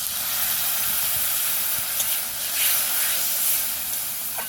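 A little water poured into a hot pan of fish curry with potatoes, giving a loud, continuous steamy sizzle and hiss that swells slightly and holds steady, close up with no talking.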